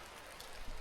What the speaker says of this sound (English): the rain's starting to come down now